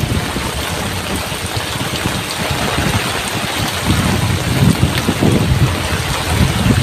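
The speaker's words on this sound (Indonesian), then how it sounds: "Hujannya kencang banget sahabat." Heavy rain driven by strong wind in open countryside near rice fields hisses continuously, with gusty buffeting rumbling loudly close to the microphone throughout.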